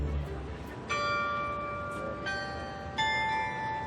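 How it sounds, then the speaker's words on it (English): Bells of the Fortnum and Mason shop clock on Piccadilly ring out in three successive clear, sustained tolls, each strike hanging and overlapping the last above a steady hum of London street noise. "Do you hear that? That's the bells of Fulton and Mason."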